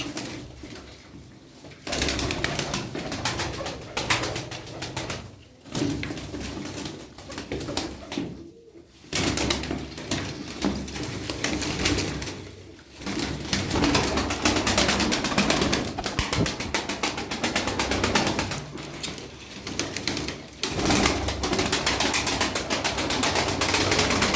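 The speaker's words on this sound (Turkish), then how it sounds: "Kuşlar kalabalık" A flock of Turkish tumbler pigeons, with wingbeats and cooing heard outdoors over a steady rushing background that drops out briefly a few times.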